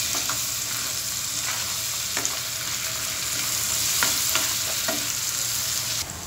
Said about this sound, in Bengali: এখন পেঁয়াজের সাথে এই সবগুলো উপকরণ ভালো করে মিশিয়ে নিতে হবে।